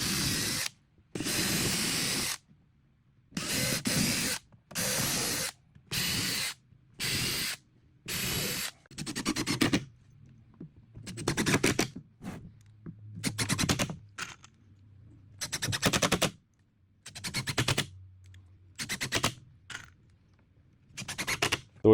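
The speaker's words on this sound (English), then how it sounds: "We're about to set our screws. You don't have to pre-drill, but I do like to do this" A power drill pre-drills holes and drives screws into cabinet wood, heard as a series of short whirring bursts stopping and starting at close range, with faint lower motor hum between some of them.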